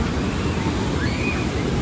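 Ocean surf at a Peruvian beach gives a steady, dense rush of breaking water close by, continuous and unbroken, with no voices.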